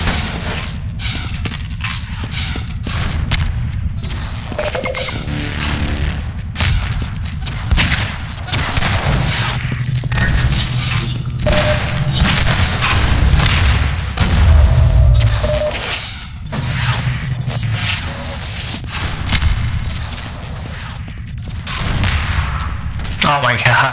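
Rocket explosions and heavy gunfire in Half-Life 2 Deathmatch come as repeated loud booming blasts and rapid shots, dense and close throughout, with a voice speaking over the action.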